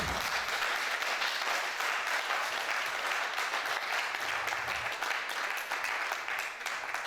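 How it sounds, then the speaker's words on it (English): Sustained audience applause fills a hall at a Senior Staff Association of Nigeria Polytechnics capacity-building workshop, a dense, steady wash of many hands clapping at full strength throughout, with no voices over it. "Thank you for your applause."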